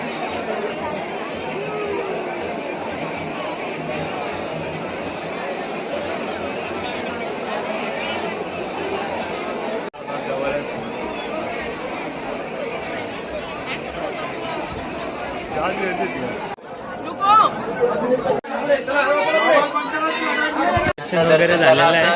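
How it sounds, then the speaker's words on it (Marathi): Dense crowd chatter at the Ekvira temple during darshan, a steady babble of many voices close around, with louder nearby talk and movement building toward the end. "आज गर्दी आहे गाईस."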